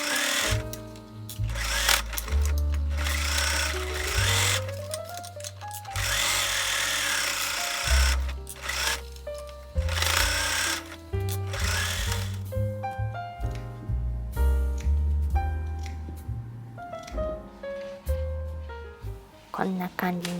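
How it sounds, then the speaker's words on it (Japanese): A sewing machine stitches the neckline of a formal dress where the facing joins the bodice, a steady run of mechanical whirring and stitching bursts heard beneath background music. "身ごろに見返しを中表に合わせて襟ぐりを縫おう"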